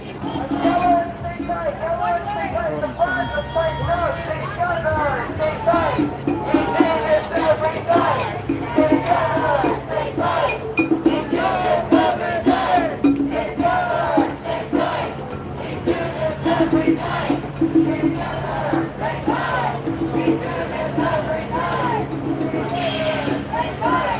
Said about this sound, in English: The crowd's now turning right on Vista Street.